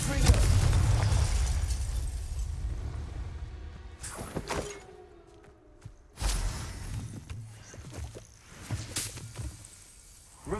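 A Confringo fire spell from Hogwarts Legacy goes off with a heavy opening blast, followed by several sharp crackling bursts and booms spaced a couple of seconds apart over a low rumble.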